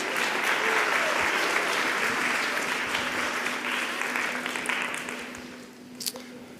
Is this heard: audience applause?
yes